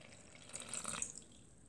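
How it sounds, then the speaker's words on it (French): Water poured into a bowl while making salt dough, a soft brief splash and trickle swelling for about half a second before fading, faint and close with no talking. "Je vais rajouter l'eau."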